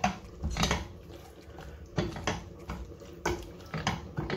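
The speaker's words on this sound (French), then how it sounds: "Et puis là, je vais remuer." A spoon stirs lasagna sauce in a pot, giving irregular clinks and scrapes against the metal with soft wet sloshing, close and moderately quiet, in bursts.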